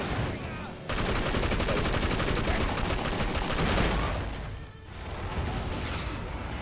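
Dense, continuous gunfire in the video game Sleeping Dogs Definitive Edition, rapid overlapping shots and bursts filling several seconds, briefly dipping before resuming.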